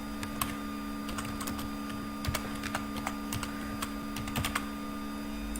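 Computer keyboard typing a name into drawing software, with irregular bursts of quick, light key clicks over a steady background hum.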